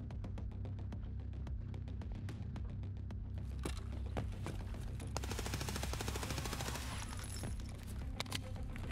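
Gunfire from scavs fighting one another in Escape from Tarkov: bursts of automatic fire, each bursting rapidly then dying away, over a steady low hum, heard at moderate distance and growing denser toward the middle.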